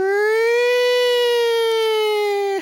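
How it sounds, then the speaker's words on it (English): A single sustained siren wail in a children's puppet show: one clear, steady tone that rises slightly, holds loud and close, then drops off abruptly at the end. "Siren."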